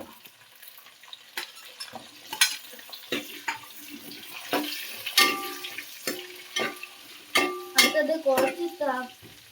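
Garlic and green chili fry in a pan for a fish curry, a low sizzle broken by sharp scraping and clanking of a spoon against the pan in irregular bursts.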